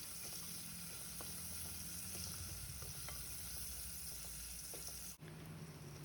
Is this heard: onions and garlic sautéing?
yes